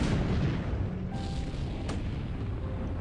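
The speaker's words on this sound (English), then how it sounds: "Another internal explosion there," A warship's internal explosion in a naval war video game booms as a dense, sustained rumbling roar that fills the whole moment with steady force, alone and without voices.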